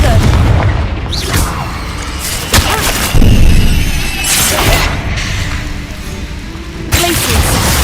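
A Confringo blasting spell detonates in a game, delivering loud booming explosions one after another, each a sharp crack followed by a rumbling tail, dense and close, with brief shouted voices among them.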